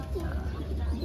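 Soft, low pigeon cooing murmurs briefly against a steady background hum, close by.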